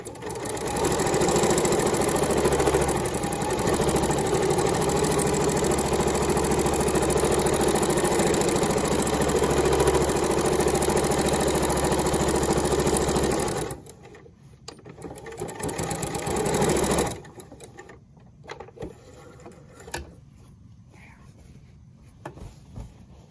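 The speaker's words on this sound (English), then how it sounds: "You can see the walking foot goes over the bulk of the side seam really nicely." A sewing machine fitted with a walking foot stitches steadily over the bulky side seam of a quilted fabric Easter basket, a loud, even mechanical whir that stops abruptly, followed by quiet handling noises and short clicks.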